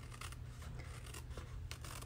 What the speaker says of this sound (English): just take your scissors, follow it just around the back of the notebook